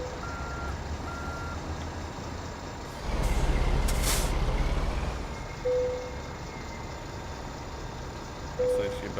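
Reversing beeper on a Kenworth T800 truck backing into a tight spot in the American Truck Simulator game, sounding short intermittent beeps over a steady low diesel rumble, with a loud rushing air-brake hiss midway.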